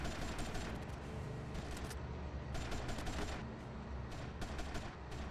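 Rapid bursts of gunfire during a video game mission to protect a boat from smugglers, clustered volleys of sharp shots firing in quick succession over a constant background.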